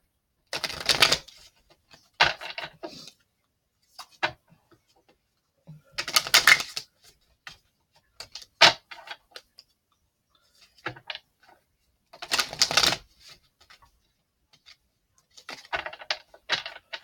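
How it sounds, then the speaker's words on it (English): Oracle cards are shuffled in several quick riffling bursts separated by pauses, with soft taps and handling sounds between them, close and fairly quiet. "so we're going to shuffle up the Sacred Traveler cards."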